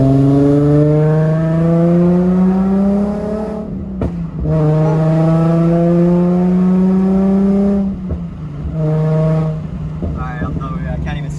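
Nissan 350Z with a manual gearbox driving, its engine droning loud and steady with rising pitch through the gears, a brief dip at each shift, while someone talks over it.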